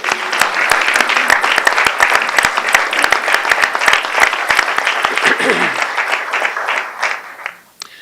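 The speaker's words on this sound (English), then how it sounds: "I'd like to give them a round of applause" Sustained applause from an audience at a Board of Supervisors swearing-in ceremony, many hands clapping densely and loudly before tapering off and fading out near the end.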